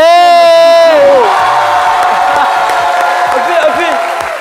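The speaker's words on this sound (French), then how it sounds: "Est-ce qu'on peut applaudir pour Philo?" Audience at a lively midday show applauds and cheers for Philo, a sustained wash of clapping with shouts and whoops, and a voice talking over it at the start.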